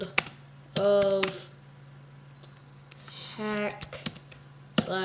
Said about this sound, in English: We're gonna type in YouTube World of